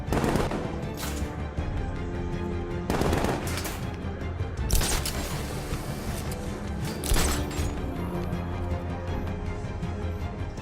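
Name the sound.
gunfire shooting down an enemy in Batman: Arkham Knight video game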